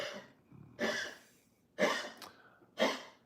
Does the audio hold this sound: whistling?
no